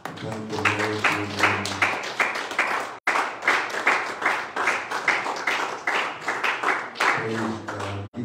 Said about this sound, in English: Will you clap your hands unto the Lord?